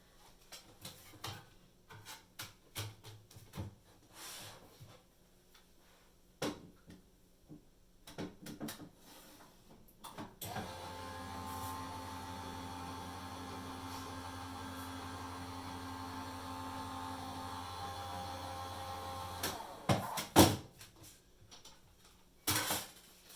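A craft die-cutting machine feeds a technique block and plates through, giving a steady mechanical motor hum for about nine seconds between scattered clicks and handling knocks, ending with a sharp clunk.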